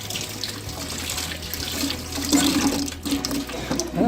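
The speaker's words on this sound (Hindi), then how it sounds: "तो वो हाथ भी धो रहे हैं उसी में" Hands are rinsed in water to wash off wall paint during flat painting, a steady running and splashing flow with louder gushes in the second half, no voices.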